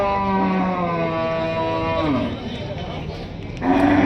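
Cows at the Saturday cattle market in Chakan, one giving a long, loud, close moo, then a short pause before another low call begins.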